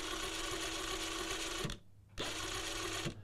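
Dewalt DCF899 half-inch cordless impact gun spinning freely at its 400 RPM setting, a steady close whirring buzz in two runs separated by a brief stop, with no voices.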